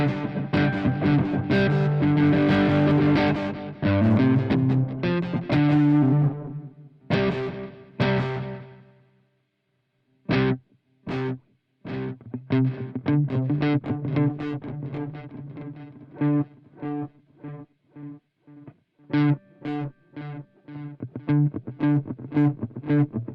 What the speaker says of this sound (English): I think I'm going to go back to the distortion for this.